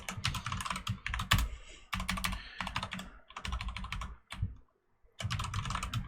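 Rapid bursts of typing on a computer keyboard, with clustered keystrokes separated by short pauses and one longer gap near the end, recorded close up during a Unity game-development session.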